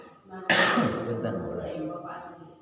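A single sharp cough close to the microphone, then a rough throat-clearing rasp that trails off under a low speaking voice.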